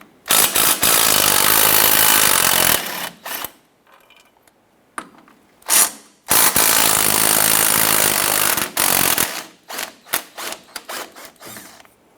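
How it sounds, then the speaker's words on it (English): A tool loosening the two 15mm shock-to-lower-control-arm bolts on a 2015-2020 Cadillac Escalade, heard as loud harsh mechanical bursts of a few seconds each with short pauses between them, close up with no talking. "you have two 15mm bolts going up to secure the shock to the lower control arm. Let's go ahead and loosen and remove those."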